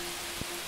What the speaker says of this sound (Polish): Nie od dziś wiadomo, że szum deszczu wykorzystuje się jako naturalny dźwięk, który odpręża